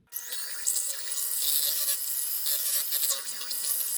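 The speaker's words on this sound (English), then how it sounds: "I'm going to mix them up just like they were scrambled eggs" Raw eggs are beaten hard in a bowl like scrambled eggs, giving a continuous brisk scraping whisk close by, a steady rapid rubbing texture with no pauses.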